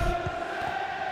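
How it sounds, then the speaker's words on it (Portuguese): A stadium crowd in the football video game FIFA 23 chants and roars steadily, a dense sustained wall of voices filling the whole moment without pause. "Torcida canta."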